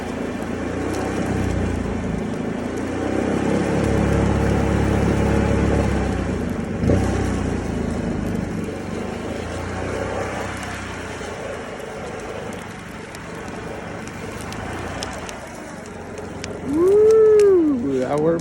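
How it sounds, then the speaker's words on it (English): A blower roars steadily and loudly into a fire to stoke it, its motor drone continuing throughout with slight surges, while a voice talks over it and a brief whistling tone rises near the end. "I got the blower on, and I'm gonna stoke this fire with the blower."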